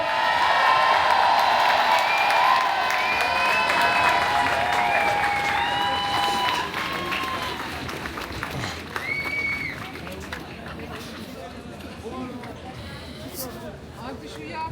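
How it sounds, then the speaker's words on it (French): A crowd at a public rally applauds and cheers loudly, a thick roar of clapping and voices that gradually thins and fades, with scattered shouts and whistles near the end. "un tonnerre d'applaudissements pour Amal et Yessa"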